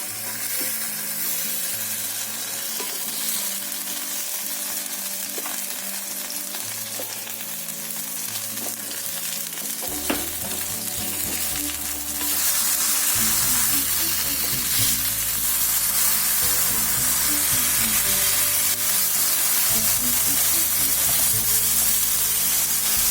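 Raw banana slices frying in oil in a pan on medium flame, a steady close sizzle that grows louder and fuller about halfway through, with occasional stirring knocks.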